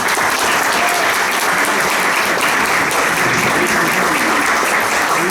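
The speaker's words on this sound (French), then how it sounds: "Nous les remercions. On peut les applaudir." Audience at a Rotary Club presidency handover dinner applauding the catering team, loud dense clapping from many hands sustained evenly throughout.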